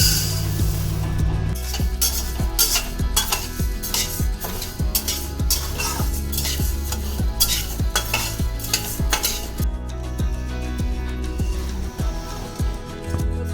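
Toor dal dry-roasting in a pan, stirred with a metal spoon that clinks and scrapes steadily against the pan in a fast, regular rhythm, close and continuous, with a faint dry rustle of the lentils beneath.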